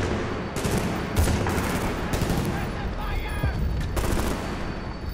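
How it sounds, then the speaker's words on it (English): Gunfire in Battlefield Bad Company 2, sustained loud bursts of automatic shots with a few separate cracks, continuous over a noisy battlefield background. "Where's that guy at? Shooting me from a while."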